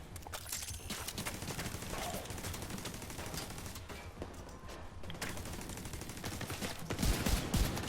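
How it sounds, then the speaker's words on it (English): Gunfire from a shooter video game, dense overlapping shots and bursts crackling steadily throughout, fairly loud with a heavier impact near the end. "So I'm getting shot at, getting out of the way"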